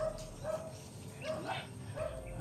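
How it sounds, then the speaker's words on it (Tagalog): A dog barks a few times in the distance across a large open mountainside area on Mount Bitay, short yips and woofs spaced about half a second apart over steady outdoor background noise. "May aso doon no?"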